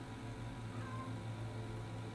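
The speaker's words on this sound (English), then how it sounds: "Can you hear him meowing?" A cat meows faintly once or twice, a thin brief cry sitting low beneath steady indoor background noise.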